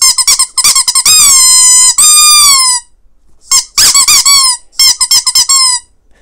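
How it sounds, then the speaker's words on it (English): Squeaker in a Wheezy penguin toy being squeezed, very loud, close, whistling squeaks in quick bursts, some long and gliding, with short pauses between groups. "It doesn't take a lot of effort to squeeze him and get that squeaking effect."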